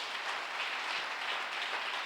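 A church congregation applauds the Lord, a continuous, even wash of many hands clapping that fills the room without a break.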